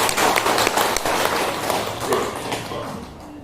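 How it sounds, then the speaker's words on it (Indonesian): A crowd claps and applauds in a dense burst that gradually tapers off, heard from within the room. "Kita tepuk tangan dulu lah."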